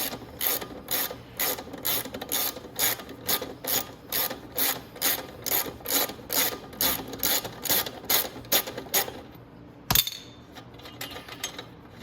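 A ratchet wrench loosens the rear axle nut on a Venom x22 125cc motorcycle, giving a steady run of close, evenly spaced clicks for about ten seconds, then a single sharp clank, with no voices.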